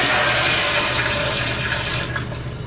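Toilet flushing in a restroom at a Petco pet store in Hagerstown, Maryland: a loud, close rush of water that fills the whole clip and eases off toward the end.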